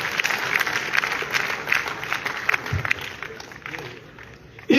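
Audience clapping at a government boys' model higher secondary school annual day celebration in Rajouri, a steady broad patter of applause from a hall crowd lasting several seconds, with a sharp loud burst at the very end.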